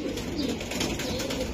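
Racing pigeons at a breeding farm coo softly and continuously in a brief, close murmur, with several birds overlapping.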